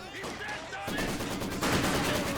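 Machine gun fire in the Company of Heroes 2 strategy game, rapid close bursts rattling under a commentator's voice, growing denser and louder toward the end.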